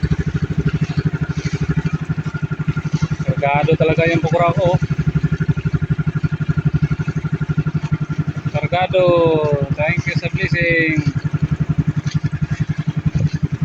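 A boat engine idles with a steady, close chugging throb throughout, while someone talks over it in short bursts.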